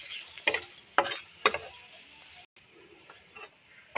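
Dry red chillies and a bay leaf frying in hot oil for a fish curry give off a steady close sizzle, broken by three sharp spoon clicks early on and a brief lull midway.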